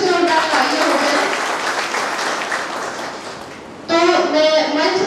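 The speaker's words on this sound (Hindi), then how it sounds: "तो एक बार सर के लिए फिर से जोरदार तालियां हो जाए" An audience at a Hindi comic poetry gathering claps loudly and continuously, swelling again near the end, with a voice speaking over the applause.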